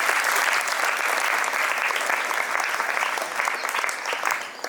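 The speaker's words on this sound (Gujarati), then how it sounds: "જોરદાર તાળીઓથી ફરી વખત સ્વાગત કરીએ" Loud, sustained applause from a crowd at a school convocation ceremony welcoming guests onto the stage, a steady dense roar of clapping throughout with a slight dip near the end.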